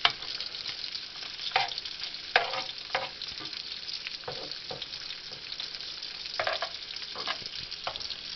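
Meat browning in a pot for a batch of chili, with a soft continuous sizzle broken by intermittent scrapes and stirs of a spoon against the pot, moderately quiet and without talk.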